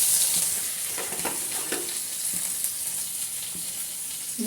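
Chopped onions and curry leaves fry in about two spoons of hot oil, giving a steady, close sizzle and hiss with faint crackles throughout, and no voices.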